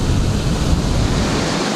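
Big ocean waves break close to shore off a deep-water coast on a sailing passage toward Africa, a dense, continuous roar of surf and wind that stays loud and steady throughout, with no voices.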